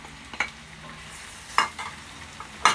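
Sliced courgettes hit a hot pan of vegan curry and sizzle in short bursts, with a few sharp stirring clatters spaced apart over a quiet, steady frying hiss.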